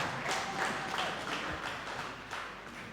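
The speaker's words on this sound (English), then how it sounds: "can you please kindly give a very big round of applause?" A lecture-hall audience at a tax event claps for a guest speaker, a dense, steady patter of many hands at moderate distance, continuing for the full stretch without talk.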